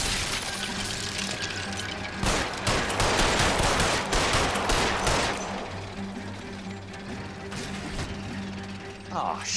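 Gunfire in the video game L.A. Noire Remastered comes as a dense burst of rapid shots and mechanical clatter, loud and close, over a steady background hum.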